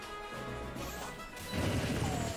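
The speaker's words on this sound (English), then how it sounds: "Up smashes Luma, but gets punished with an up smash of his own." An up smash lands in a Super Smash Bros match, giving a loud crunching impact amid busy game sound effects and music, with a second heavy hit following.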